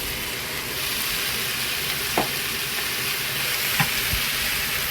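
Vegetables stir-fry in a pan for Korean home-style pork jajangmyeon, a loud, continuous sizzle with a few light clinks of the utensil against the pan.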